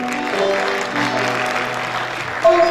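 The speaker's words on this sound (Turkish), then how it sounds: "onlara güzel bir alkış gelsin." Applause from an audience at a Kars community association liberation-day event in Ankara, a steady crowd clapping that holds evenly for a few seconds, with a brief louder swell near the end.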